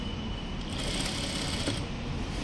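A sewing machine stitches a fall onto a saree, a steady close mechanical chatter that runs without pause for the whole stretch, fairly quiet and alone.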